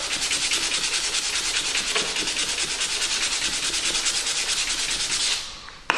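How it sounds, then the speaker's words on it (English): Hand sanding of a wooden floorboard with 180 grit sandpaper makes a steady, close scratchy rasp of rapid back-and-forth strokes that runs without pause, then stops abruptly near the end. "I'll just get a bit of 180 grit sandpaper."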